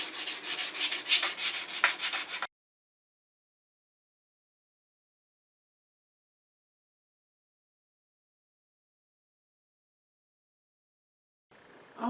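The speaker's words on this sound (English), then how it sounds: "Between grits, you always want to sand with the grain." Sandpaper is rubbed with the grain along a turned wooden lathe-tool handle. Quick, even back-and-forth strokes scratch close and loud for about two seconds, then stop into silence.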